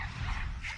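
Small dogs yip and bark in a brief burst during a Dofus turn-based combat, short and dense over the game's backing sound.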